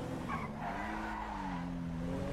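A Hyundai Verna car moving fast, with a steady engine drone rising and falling in pitch along with road and tyre noise, heard from inside the cabin without talk.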